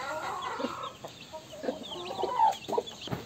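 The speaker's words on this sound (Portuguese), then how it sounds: "Olha que galinha linda." A free-range hen clucks close by in a backyard pen among chicks, giving short irregular clucks and a few rising calls over quiet background, with no talk during it.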